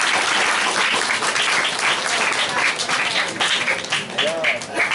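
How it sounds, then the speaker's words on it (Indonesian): Audience applause at an Islamic sermon fills the whole stretch as steady, dense clapping from a crowd, with faint voices mixed in near the end. "Tepuk tangan dulu, tepuk tangan dulu."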